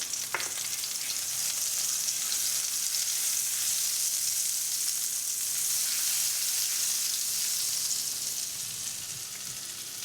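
Butter melts in olive oil in a frying pan over gentle heat, giving a continuous soft, crackling sizzle with a sharp pop near the start, steady and close with no talking.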